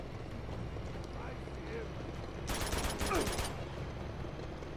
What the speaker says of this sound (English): That's a tank gun!